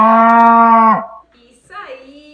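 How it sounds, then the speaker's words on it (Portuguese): A cow moos once, loud and close, a long steady low call lasting about a second and then trailing off, with a softer short animal call following. "Qual é o som que a vaca faz?"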